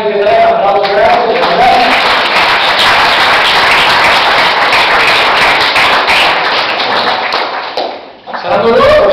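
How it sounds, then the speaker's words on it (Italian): Audience at a literary event applauding as three writers are welcomed, a loud, dense and continuous sweep of clapping that holds steady for several seconds, dips briefly, then swells again, with voices faintly mixed in. "un applauso grande"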